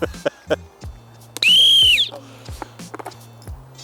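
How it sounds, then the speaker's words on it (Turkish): A sharp whistle blast rings out for about half a second outdoors, surrounded by scattered clicks, knocks and a low steady hum. "Bulduğu için düdük çalıyor."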